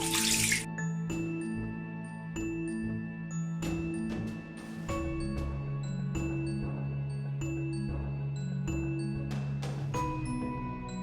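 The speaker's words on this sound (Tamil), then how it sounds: "நார்மலாக தண்ணி ஊற்றி இதை நீட்டாக வாஷ் பண்ணிடுங்க." Running tap water rinses an AC air filter at home, a steady splashing wash of water over the mesh with small clinks and knocks of handling throughout, close and continuous with no talking.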